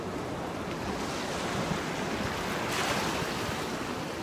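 Broad surging water wash of waves with wind noise across the microphone, a steady rushing roar that swells slightly near the end, heard outdoors on the water.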